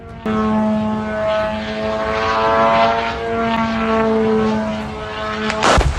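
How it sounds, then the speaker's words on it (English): A Russian Shahed drone drones overhead in the Chernihiv region of Ukraine, a loud buzzing propeller engine hum that swells as it nears, then ends in a sharp burst of its explosion at close range. "A Ukrainian farmer captures the moment a Russian Shahed drone explodes at close range in the Chernihiv region."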